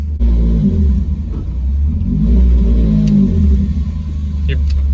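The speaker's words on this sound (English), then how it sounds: "Something's making a bunch of grinding noise." A car's H22 engine with big tube headers revs and rumbles loudly with a rough grinding undertone, with people talking over it.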